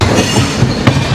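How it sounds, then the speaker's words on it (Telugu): A fully loaded coal goods train hauled by an Indian Railways WAG electric locomotive rumbles past loud and close, with steady rolling wheel noise and a sharp clack near the end. "బొగ్గును క్యారీ చేస్తున్న ట్రైన్."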